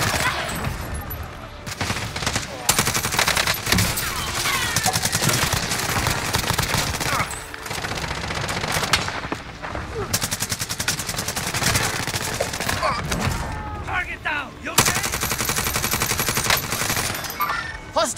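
Dense, sustained automatic gunfire and rapid shot bursts from a Call of Duty Warzone match during a nuke event, loud and nearly continuous with brief lulls, with players talking over it.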